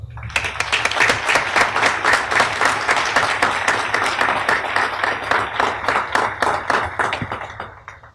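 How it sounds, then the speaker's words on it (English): Applause rings out at a naval shipyard change of command ceremony, a close, loose round of individual hand claps with distinct sharp strikes that continues evenly before thinning out and fading at the end. "and I want to applaud that right now."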